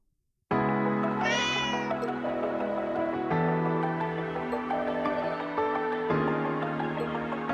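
A cat in the video game Tokyo Xanadu eX+ gives a sustained, clear meow that stretches on for several seconds, loud and close with no talk over it.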